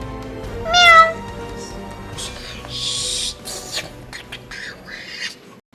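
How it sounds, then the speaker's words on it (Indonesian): A domestic cat meows loudly up close with a few sharp, squawky cries, then several quieter mews trail off; no talking is heard. "Kucing."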